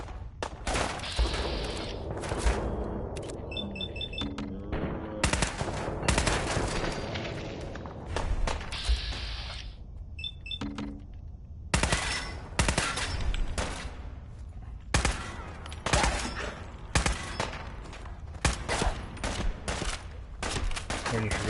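Rapid bursts of gunfire in the video game Fallout 4, with repeated loud shots and volleys packed close together throughout, amid game effects and occasional voices.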